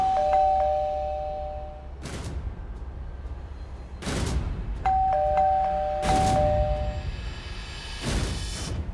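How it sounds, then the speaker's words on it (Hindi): An electronic doorbell rings a two-tone chime twice amid a TV drama soundtrack, and the chimes are interleaved with loud, sharp dramatic hits. No one speaks. "कब से डोरबेल बज रही है?"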